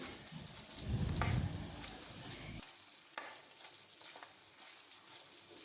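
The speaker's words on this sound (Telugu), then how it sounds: "దీన్ని కొంచెం డీప్ ఫ్రై చేద్దాం అనుకుంటున్నాను" Chicken deep frying in hot oil, a loud bubbling sizzle that drops abruptly partway through to a quieter crackle, with faint stirring clicks and no voices.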